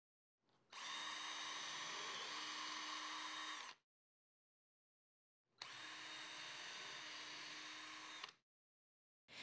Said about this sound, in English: mark and drill 5 pilot holes 7/8 of an inch from the edge-banded lower edge of the front rail